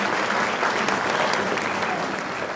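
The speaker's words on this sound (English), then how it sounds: "Give her a round of applause for that." A round of applause rises from the audience at a high school guitar concert, dense, sustained clapping at steady volume throughout the short stretch.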